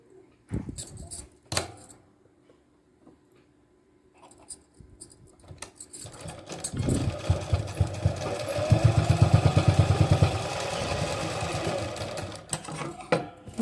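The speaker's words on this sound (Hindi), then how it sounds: "यहाँ पर सिलाई लगाते हुए आ जाएंगे" Sewing machine stitching a design on a pant, starting with a few short clicks and bursts, then a steady rapid mechanical rattle of stitching that runs close and loud to the end.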